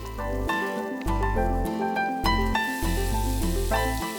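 Chopped spinach hits a hot pan and sizzles, a steady broad hiss that swells partway through beneath continuous background music.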